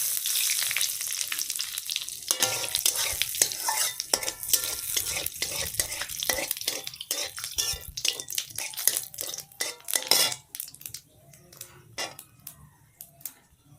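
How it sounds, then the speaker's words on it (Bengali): Cumin seeds temper in hot oil, crackling and sizzling loudly while a spatula stirs and scrapes the pan in quick, uneven strokes that thin out toward the end. "জিরা ফোড়ন দিয়ে দিলাম।"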